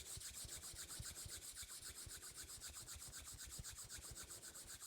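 Palms rubbing together during a yoga and mindfulness session, a steady close friction swish with quick repeated strokes running continuously throughout, alone without talk.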